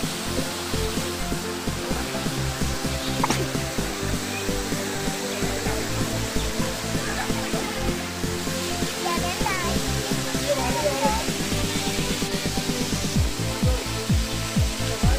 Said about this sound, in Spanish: Una cascada majestuosa de 22 metros, una herida abierta en la roca de la que brota agua viva.